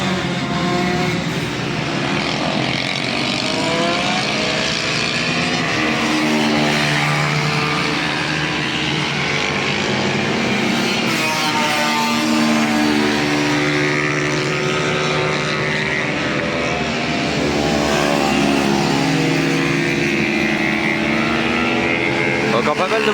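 Motorcycles race past on track during a 24-hour endurance race, engines droning continuously with rising and falling pitches as bikes pass, loud and steady under French commentary.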